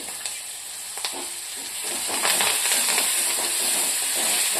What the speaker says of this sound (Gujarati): લીલા મરચાં નાખી દઈશું અને આપણે આ મીઠી લીમડીના પાન નાખીશું અને આદુની પેસ્ટ બનાવી હતી એ નાખીશું આપણે